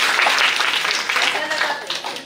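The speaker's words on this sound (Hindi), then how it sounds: "ताली बजाइए सभी।" An audience at a Shivshakti program in Biratnagar, Nepal, claps together in a thick, uneven wash, mixed with voices throughout.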